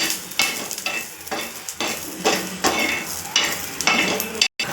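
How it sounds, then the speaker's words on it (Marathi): Ginger and garlic dry-roast in a pan after toasted coconut while a chicken masala is being prepared, with steady sizzling and repeated scraping stirs of a spatula, close and continuous and without speech. "आता अद्रक आणि लसूण टाकून घेऊ त्यांना पण चांगलं भाजून घेऊ"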